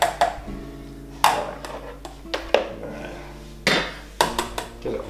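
Ripe medlars being smashed in a pot for medlar cheese: a run of about eight sharp, close knocking impacts, irregularly spaced with short pauses, over a faint steady background hum.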